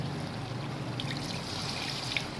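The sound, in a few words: pouring water into kofta gravy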